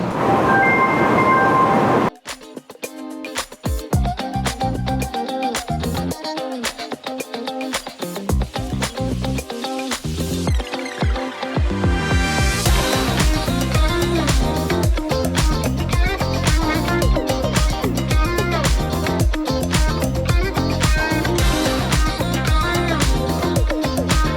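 A Taiwan High Speed Rail train pulls into a station, its loud, steady rush building and holding close by after a brief quieter start.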